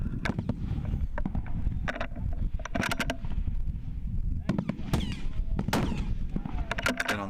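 Precision rifle fired from a barricade position at a PRS positional match, a few sharp, loud cracks with quick echoes, mixed with nearby shuffling and handling noise.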